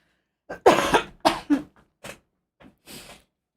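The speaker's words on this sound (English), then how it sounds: "Sorry if I keep coughing today." Several coughs in quick succession, close and fairly loud, followed by a couple of softer, spaced-out coughs.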